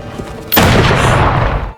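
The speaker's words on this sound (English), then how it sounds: "Hearing gunshots" Gunfire erupts suddenly after a brief quiet lead-in, a loud sustained burst of close shots and booming blasts rolling on for over a second before fading, in a night scene with a werewolf.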